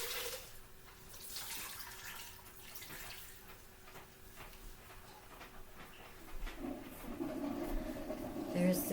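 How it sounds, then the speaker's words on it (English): Wet acrylic yarn dyed yellow is pulled from a bucket and wrung out. A quiet, steady watery trickle and dripping runs throughout and swells toward the end. "I'm going to pull it out of my bucket and wring it out."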